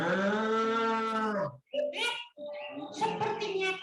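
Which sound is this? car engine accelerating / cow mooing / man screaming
cow mooing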